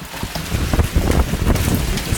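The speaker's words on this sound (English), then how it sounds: "I am under an overpass and still just getting beat by this hail." Hard, dense drumming of hail pelting a surface during a hailstorm, heard from under an overpass, loud and close, with irregular thuds and rattles over a roaring wash of noise.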